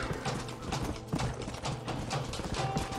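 A horse gallops in Red Dead Redemption, hooves pounding in a fast, rolling clip-clop rhythm, loud and close over a dense game soundscape.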